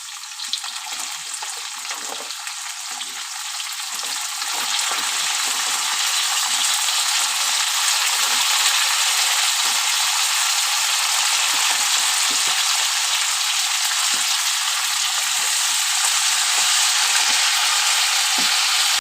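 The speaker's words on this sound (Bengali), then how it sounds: "ভাজা হয়ে এসছে শিম আলু" Green beans and potatoes fry in a pan with a steady, broad sizzle that grows a little louder after the first few seconds and then holds evenly, close and alone with no talk.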